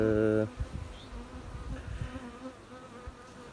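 Italian honeybees hum and buzz softly around a hive, a low steady drone after a brief louder tone at the start.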